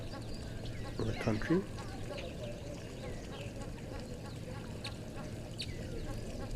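Ducks at a waterhole give a short burst of quacks, brief and mid-distance, over steady outdoor ambience while a person talks.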